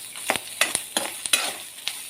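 Grated coconut dry-roasted and stirred in a hot pan, with soft sizzling and regular spoon strokes, close and fairly quiet.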